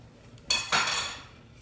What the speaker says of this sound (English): I'm going to go ahead and stir this just a little bit more